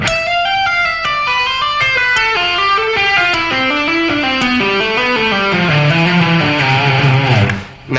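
Electric guitar runs a fast legato scale pattern of hammer-ons and pull-offs in a rock style, a continuous stream of notes descending steadily in pitch, loud and alone before cutting off at the end.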